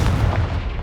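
The Confringo blasting spell explodes in the video game Hogwarts Legacy with one loud, deep boom that rumbles through the whole short moment.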